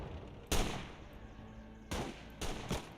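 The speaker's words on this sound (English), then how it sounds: "And that's an RPG." An RPG launches and detonates in the World War II game Gates of Hell: Ostfront, with a sharp broadband blast followed by a decaying roar, then two more heavy bursts close together near the end over a low battlefield rumble.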